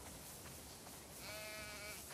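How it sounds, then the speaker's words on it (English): A sheep bleats once in the video game The Last of Us Part II, a short wavering cry rising out of a quiet ambient background near the end. "We definitely have way too many sheep."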